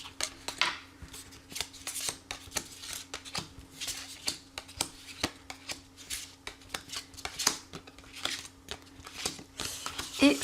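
Tarot cards riffled and shuffled by hand for a reading, a steady run of crisp papery flicks and slaps with a low constant hum beneath and no talking.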